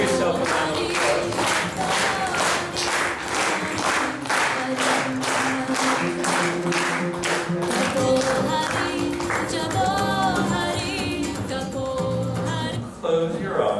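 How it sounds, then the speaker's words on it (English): A group in a breathwork session claps in a quick regular rhythm for several seconds, then the clapping loosens into scattered applause as voices and tones rise over it. "Give yourself a round of applause."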